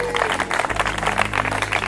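A church congregation applauds in a dense burst of rapid clapping, with a low hum running underneath and voices mixed into the crowd.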